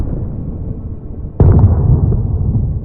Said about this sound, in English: Loud booms of artillery fire fill the air.